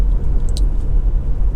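Honda Accord 2.0 i-VTEC four-cylinder engine idling, a steady loud low rumble that holds evenly throughout with a few faint higher ticks near the start, no voices.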